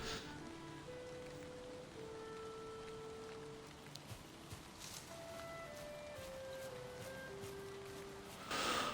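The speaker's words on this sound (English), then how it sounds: "we're stuck in the rain" Steady rain falls in the Viking survival game Valheim, a continuous even hiss throughout with faint game tones drifting in the background and no voices.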